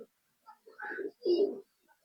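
Jamdani-foot pigeons in a loft give a couple of brief, soft throaty coos, short low calls spaced across a couple of seconds in a quiet setting.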